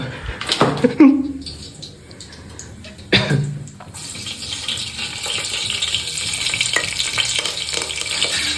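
Fish fries in oil, a rising bubbling sizzle that builds steadily toward the end, with a few clatters and bursts of talk near the start.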